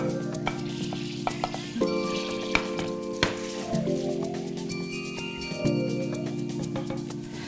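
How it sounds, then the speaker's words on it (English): Shallots sizzling in melted butter in a pan, a soft frying hiss with stirring scrapes and clinks of a utensil against the pan over a steady low hum. "once the foam subsides, I'm gonna add in my shallots"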